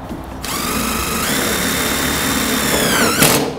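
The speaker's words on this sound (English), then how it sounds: "Now, you'll see here that Dan is only going to be putting screws on the top" A power drill whirs steadily as it drives screws into the reflector of a Calcana PHS50 outdoor gas patio heater, its motor pitch rising and then winding down, loud and close with no speech.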